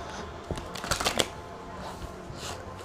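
A deck of playing cards is shuffled close up, with quick papery riffles and flutters in short bursts over a faint background hiss.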